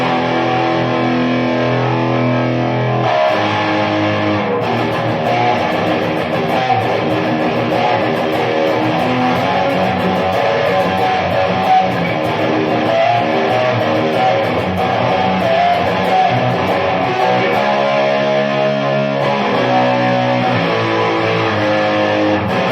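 An electric guitar plays through a TimeBomb tube amp with the bright caps removed, giving a slightly distorted, dense and sustained tone that continues steadily and loudly without talk.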